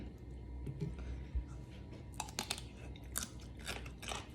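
Giant jellyfish is chewed close to the microphone, with soft, repeated crunches and wet bites at an uneven rhythm.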